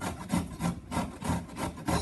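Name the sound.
grating ginger on a grater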